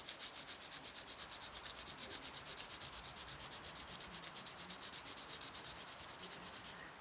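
A crayon held on its side rubs back and forth over paper laid on a fall leaf, a steady rhythmic scratchy rasp repeating quickly and evenly, close up with no talking.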